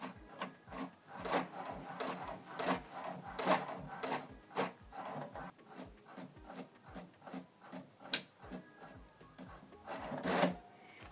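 An HP Deskjet printer prints a document with a rapid, regular mechanical ticking as the carriage shuttles, broken by louder whirring and rubbing bursts as paper feeds through, close and unaccompanied by talk.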